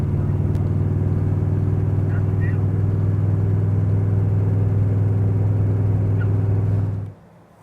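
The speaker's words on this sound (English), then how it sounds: "1967 big block Corvette, is an incredible machine, meant to be on the winding road courses of American sports car racing" A cold 1967 big block Chevrolet Corvette engine idles with a steady, deep, loud rumble for about seven seconds before abruptly cutting off.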